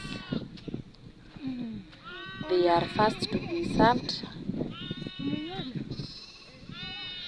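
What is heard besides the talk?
sheep bleating on African village farm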